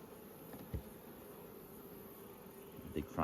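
Honey bees hum steadily in an open hive packed with nectar during a hive inspection. The buzzing is close and continuous, with a few soft handling knocks.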